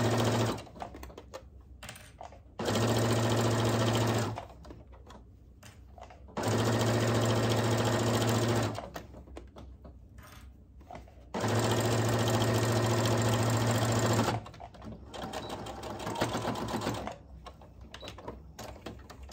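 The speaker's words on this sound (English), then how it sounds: "I'm actually gonna line that edge that I'm getting ready to stitch up with the opening in the foot" A sewing machine stitching a cosmetic zipper bag seam runs in three loud, steady bursts of rapid mechanical whirring, each a couple of seconds long, separated by quieter pauses with faint handling noise.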